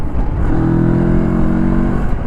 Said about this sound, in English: the power and torque is good, the feedback from the engine is good.